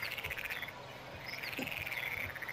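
Chorus of frogs croaking in Farming Simulator 19 near wheat fields at harvest time, rapid rhythmic trills overlapping steadily throughout, moderately loud with no voices.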